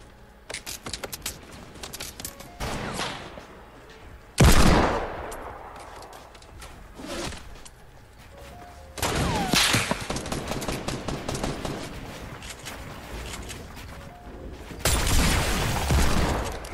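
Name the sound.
gunfire from enemies in Fortnite video game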